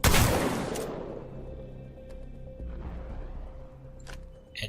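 One heavy blast from the Mastiff shotgun in Apex Legends, a loud close boom that decays into a fading rumble, followed by faint mechanical clicks.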